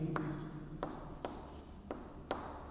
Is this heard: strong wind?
no